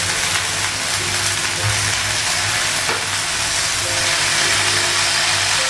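Taro pieces frying in a pan with oil at a home kitchen stove, giving a steady close sizzle and hiss with faint stirring scrapes, continuous throughout without talk.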